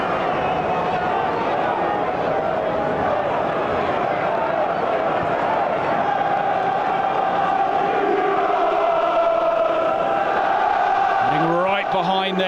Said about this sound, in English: Queen's Park Rangers crowd on their side to have a go here.